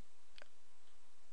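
A single soft mouse click sounds once, brief and fairly close, against a faint background hiss.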